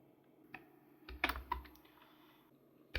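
Quick, uneven keystrokes on a computer keyboard while Python code is typed, a few louder clacks and a brief cluster of rapid presses, close and clear in a quiet room.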